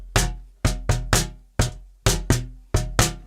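Deep, punchy kick drum hits from a kick drum built into a seat, in a loose, uneven rhythm, eight thumps over a few seconds, close and loud with no other sounds.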